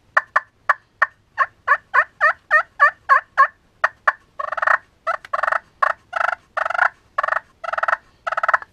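A handmade wooden pot turkey call, played on its back after roughing the surface with a Scotch-Brite pad, runs about twenty close, rhythmic yelps. Crisp clucky notes come first, then longer, raspier yelps, all loud and alone.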